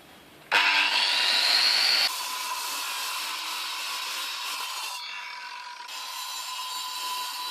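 A saw cuts through an aerated concrete wall block during wall masonry, with a loud, steady rasping drone that starts abruptly and keeps going with slight shifts in tone as the blade moves through the block.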